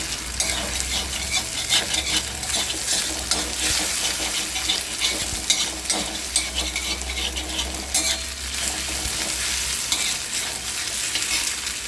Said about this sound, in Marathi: तव्यात तेल गरम झालं की आपण अंड त्यामध्ये फेटणार आहोत